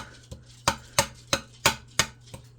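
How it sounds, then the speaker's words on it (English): A knife strikes a cutting board while chopping meat, a steady series of about eight sharp, close chops, evenly spaced with brief gaps between them. "I'm just always chopping those little meats up"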